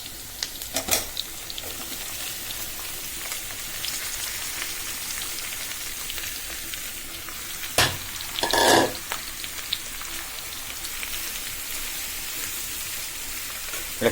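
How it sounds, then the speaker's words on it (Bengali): Raw mango, taro stolons and shrimp land in a hot pan after frying onion, garlic and green chilli, giving a steady rain-like sizzle with a couple of louder bursts as pieces hit the oil. "এবার আমি মশলা মেখে রাখা কাঁচা আম, কচুরলতি আর চিংড়ি মাছগুলো সহ দিয়ে দিচ্ছি"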